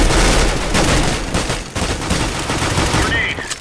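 A decoy grenade in the CS:GO game mimicking gunfire, giving dense, loud bursts of rapid shots one after another, with faint voices underneath.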